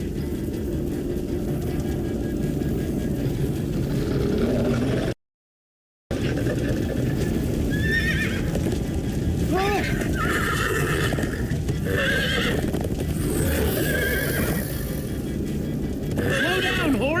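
Repeated horse whinnies ring out over continuous galloping hooves and a dense rumbling background in the video game Minecraft: Story Mode, broken by a brief silent gap.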